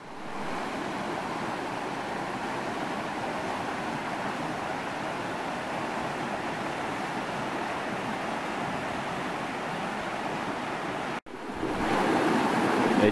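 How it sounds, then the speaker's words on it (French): A forest stream flows beside a woodland path, giving a steady, close rush of water that continues unbroken, briefly cut off near the end before resuming slightly louder. "ce petit sentier forestier qui longe le ruisseau, qu'on entend bien d'ailleurs à côté de moi"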